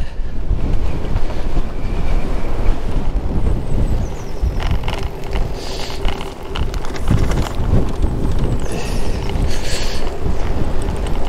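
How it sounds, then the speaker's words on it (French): Strong gusts buffet the microphone on a walk through a windy village, a loud continuous rumble that swells and eases, with no voices. "Le vent est toujours là"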